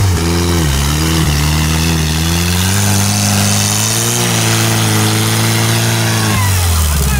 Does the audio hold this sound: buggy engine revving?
yes